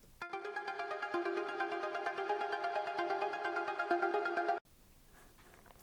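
A synthesizer plugin holds a bright, sustained chord for about four seconds, rich in stacked harmonics and pulsing slightly in level, then cuts off abruptly into quiet room noise.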